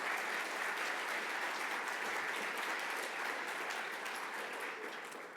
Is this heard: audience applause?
yes